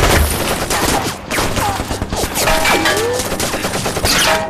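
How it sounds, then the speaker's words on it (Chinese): Machine gun bursts and rifle fire from a war film battle in which infantry and tanks attack an enemy position held from a clock tower, a dense, continuous roar of gunfire with overlapping shots and distant shouting. "至少2挺机枪"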